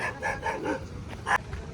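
Dogs bark at Candolim beach in Goa, a quick run of four sharp barks followed by a pause and one more yelp, fairly close against light outdoor background.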